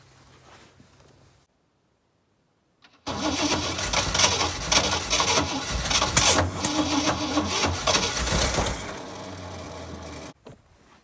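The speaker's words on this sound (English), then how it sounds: "let's try this again, see if it'll fire up" A 1981 Ford step side truck engine cranks after a quiet pause, a loud, continuous starter churn lasting several seconds while the motor tries but fails to catch, then cuts off abruptly.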